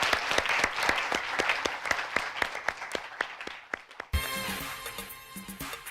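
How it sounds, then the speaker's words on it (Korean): A high school debate competition audience claps for two student debaters, sharp close claps rising into steady applause, then cut off abruptly by a shift to a different, humming scene. "두 학생에게 박수 한번 부탁드리겠습니다."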